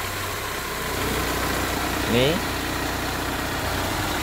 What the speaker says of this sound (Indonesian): mesin nyala.